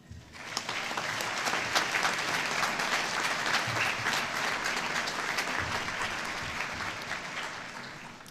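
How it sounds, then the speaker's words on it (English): A graduation crowd gives a sustained round of applause from many hands, dense and even throughout, heard from within a large audience. "Would the graduates please give a round of applause to the families and friends who are here and online"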